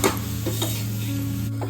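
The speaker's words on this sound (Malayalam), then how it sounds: "ക്യാപ്സിക്കം ഇട്ട് നല്ലോണം ഇളക്കി കൊടുക്കുക." Capsicum being stirred in a hot pan for thoran, with a short scrape and clatter of a utensil over a constant sizzle and low hum, close by.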